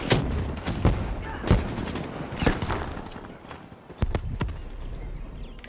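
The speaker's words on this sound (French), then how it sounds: "je pensais lancer une grenade, j'ai tiré" Gunfire in Call of Duty Black Ops 3 on PS4, a series of sharp loud shots and short bursts spread unevenly over several seconds against busy game noise, with no talk.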